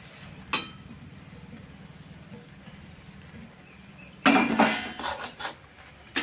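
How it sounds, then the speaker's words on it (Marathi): A metal spatula clinks and scrapes against a pan while soaked puffed rice is stirred and sautéed, with a single knock early on, then a cluster of close clattering strokes over a faint background hiss. "छान मिक्स करून घेऊया. छानपैकी परतून घेऊया आपण हे पोहे."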